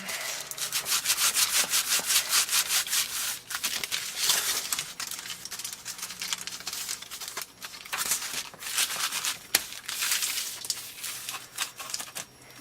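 Aluminum foil tape being smoothed down by hand, a steady, close scratchy rubbing and crinkling with quick repeated strokes, loud and continuous with brief pauses, no talking.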